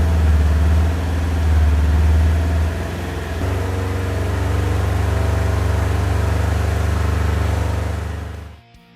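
A Polaris General's engine is held at a high steady rev of about 3,000 RPM, a loud, droning mechanical hum that dips briefly partway through and then cuts off near the end.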